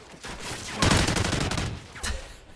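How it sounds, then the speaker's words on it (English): Gunfire in a multiplayer shooter video game, a loud burst of rapid automatic shots followed by a shorter second burst, close and sharp. "I'm getting shot from the back"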